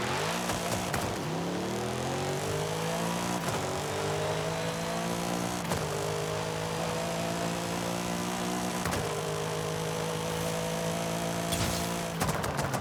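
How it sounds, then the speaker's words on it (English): A BMW M5 CS V8 in Forza Horizon 5 revs and accelerates through repeated gear changes, each pull rising in pitch before a sharp shift, loud and continuous with no talk. "Has a nice little V8 because it kind of sounds kind of like a BMW."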